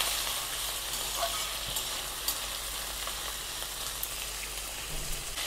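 Frying greens, lau shak (bottle gourd leaves), stirred in a cooking pan for a chochchori, giving a steady close sizzle with faint scraping, no talking.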